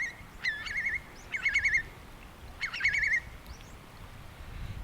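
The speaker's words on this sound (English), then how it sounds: "So we've got oyster catchers, curlew, herring gulls, blackback gulls." Oystercatchers, curlews, herring gulls and blackback gulls flushed into the air, sharp piping calls in three clustered bursts over a low breezy rumble, moderately distant.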